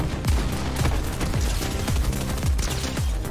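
Fortnite gunfire rings out in a fast, steady burst of repeated shots, roughly two per second for several seconds, loud and close with booming low thumps.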